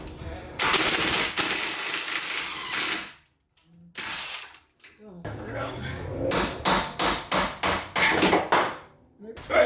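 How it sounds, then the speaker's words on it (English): BMW E46 wagon axle being driven out of its hub in a garage with sharp metallic hammer blows, first a dense burst of hits, a pause, then a steady series of evenly spaced strikes, loud and close. "I'm gonna remove the axle by pushing it out"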